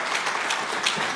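A conference audience claps warmly, a dense, steady patter of many hands, close and even, with no voices over it.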